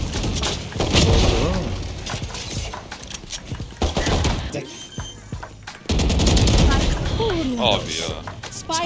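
Shotgun blasts and rapid gunfire in the tactical shooter Valorant come as loud repeated bursts mixed with game effects, while someone talks excitedly over the shooting.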